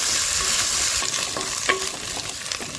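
Onion with ginger-garlic paste fries in a pan for a Godavari-style crab curry, giving a steady sizzle broken by light scraping stirs and a few sharper clicks.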